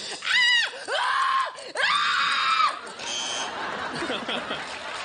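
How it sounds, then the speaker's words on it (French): Piercing high screams from a studio comedy game show, several long shrill shrieks in a row close to the microphone, followed by fainter crowd noise and voices. "3 cris qui font peur"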